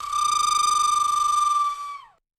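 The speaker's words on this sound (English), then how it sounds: "we have these flute calls under here, which I made with just a plastic recorder" A plastic recorder plays a single sustained, dry flute note with no effects, steady and bright, then bends downward as it fades out after about two seconds.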